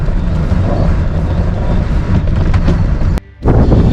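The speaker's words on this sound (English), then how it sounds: "Just in case anybody thinks I was exaggerating about how windy it is here." Strong wind in Scotland roars and buffets the microphone in a steady, loud rumble, cutting out briefly near the end before gusting back in.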